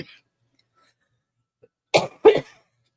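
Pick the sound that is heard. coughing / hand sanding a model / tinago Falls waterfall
coughing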